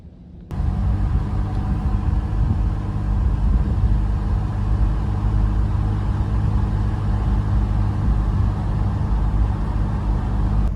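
An SUV rolls down a steep forest road in a Tennessee park, its engine a low, steady rumble with constant road noise throughout and no voices.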